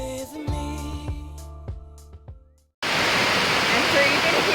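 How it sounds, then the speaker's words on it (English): Heavy rain pours down outside a DIY tiny home under construction, a dense, steady roaring hiss that cuts in abruptly after a short passage of tonal, rhythmic sounds and then continues loud and unbroken. "it is absolutely pouring outside"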